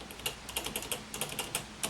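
Typing on a Topre Realforce 104UW keyboard, a steady run of crisp, rounded keystrokes at an even pace, close and fairly quiet, with no voices.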